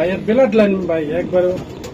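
Racer pigeons coo in soft, repeated rolling calls, close by, with a voice talking over them.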